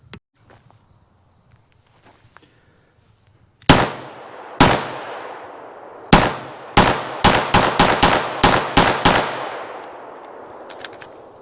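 An FB-Radom VIS-100 pistol fires at an outdoor range by a cabin, two spaced shots followed by a quicker string of about eight sharp, loud reports with ringing decay, then quiet.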